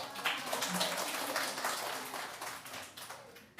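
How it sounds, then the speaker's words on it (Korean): Church congregation clapping together, a sustained round of applause at moderate level that gradually tapers off, with a voice faintly present underneath. "박수 한번 쳐주십시오."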